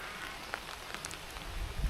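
Heavy rain falls steadily during trout fishing in Devon, a dense, even hiss with faint scattered drops and a low rumble near the end.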